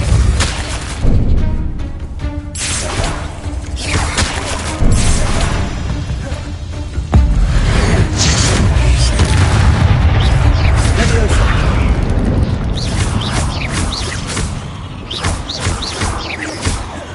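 Repeated Confringo spell blasts in Hogwarts Legacy, loud booming explosions and crashes over a dense layer of combat noise during a fight, with several strong impacts scattered throughout.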